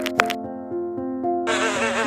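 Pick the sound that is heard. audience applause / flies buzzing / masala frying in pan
flies buzzing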